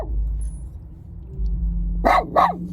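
Dogs bark twice in quick succession near the end, close and sharp over a low rumbling engine hum from a vehicle on the road.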